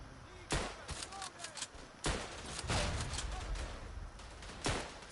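Gunfire rings out in the WW1 shooter Verdun: a few sharp, loud rifle cracks at irregular intervals, with reverberating echoes and a rumbling battlefield din in between.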